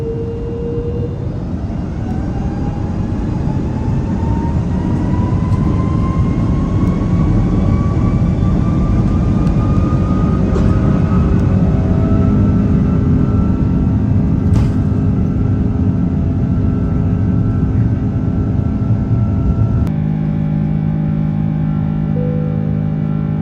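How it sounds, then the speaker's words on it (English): Hawaiian Airlines Airbus A330 jet taking off from runway 24 left at LAX, a loud steady engine roar with rising whine building through the takeoff roll, heard from inside the cabin with no talk. "We are headed to 24 left for takeoff"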